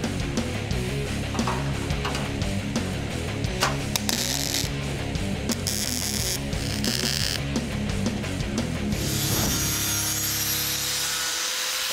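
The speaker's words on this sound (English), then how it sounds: "I'm using a shear and brake to form a new one out of 14-gauge sheet metal" A shear and brake cut and form a 14-gauge sheet metal brace for a 1961 Chevy Impala, a continuous harsh scraping and grinding noise, loud and close, with no voices.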